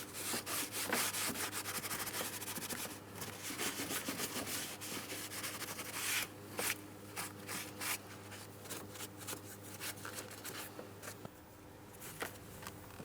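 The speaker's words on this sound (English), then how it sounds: "We're going to clean along the body of the vehicle and, of course, on the mount along the top of the transmission." Close, steady scrubbing on a 2008–2016 Chrysler Town & Country 3.8L V6 as the transmission mount area and nearby body are cleaned, rough rhythmic rubbing strokes over a constant low hum, continuing with few breaks.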